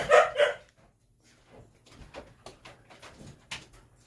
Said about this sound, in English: My dog is barking at the kitten that we got.